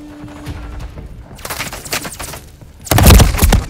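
Bursts of rapid gunfire in a Call of Duty: Modern Warfare III match come in a loud, close volley around the middle and an even louder, denser fusillade near the end, with quieter moments between.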